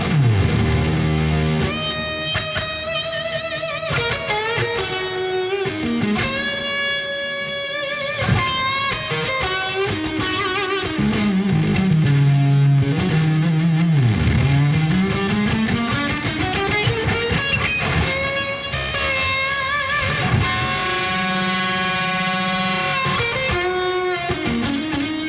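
An electric guitar played through UAFX reverb, delay and modulation pedals rings out in lush, sustained ambient chords and melodic lines with long trailing echoes and shimmering wash, continuous for about twenty-five seconds.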